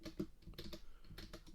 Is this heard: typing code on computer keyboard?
yes